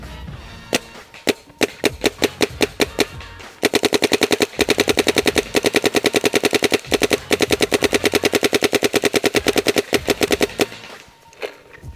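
Planet Eclipse GEO 2.1 paintball marker firing in semi-automatic mode, with a few sharp spaced pops building into long, rapid, evenly paced volleys of loud close shots before tapering off to a few final pops.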